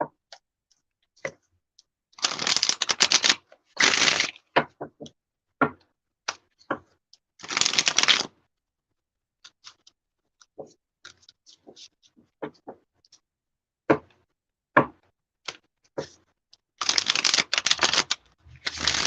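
Tarot cards from a Triple Goddess deck are shuffled in several brisk riffling bursts, separated by scattered taps, snaps and card clicks in a quiet room.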